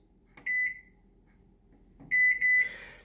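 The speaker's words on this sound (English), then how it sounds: "I'm gonna put the microwave on 2 minutes." A kitchen microwave oven gives bright electronic beeps, one pair of short tones, a pause, then a quicker run of three, ending under a rush of hum as it starts running.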